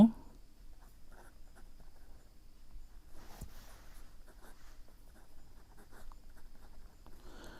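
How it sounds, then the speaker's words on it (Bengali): Faint handwriting on paper during a Class 6 math lesson, soft intermittent pen strokes with a brief louder scratch partway through, quiet and close. "এখন আমরা লিখব এখানে"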